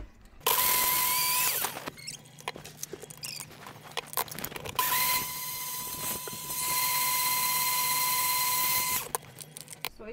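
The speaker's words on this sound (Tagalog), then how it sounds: "Dito na ako mag-blender." A kitchen blender whirs loudly in two long bursts, a high motor whine with brief stops and clatter in between.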